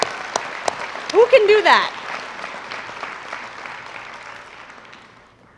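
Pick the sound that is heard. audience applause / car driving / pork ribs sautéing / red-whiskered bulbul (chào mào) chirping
audience applause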